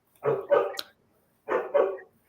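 A house dog being home-trained barks in two quick pairs of woofs, close and loud, with a short pause between the pairs.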